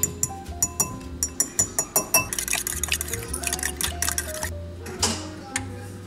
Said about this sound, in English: I'm gonna go ahead and start slicing up the bananas and cracking the eggs into a little bowl.